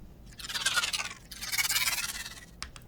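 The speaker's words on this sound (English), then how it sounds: "And that was generated from a phase plant patch, which I call Arc Machine here." Synthesized sweetener layer from a Phase Plant patch for a sci-fi sniper rifle built from taser sounds: two bright, hissing, crackling electrical bursts, each swelling and fading over about a second, with a short flicker at the end.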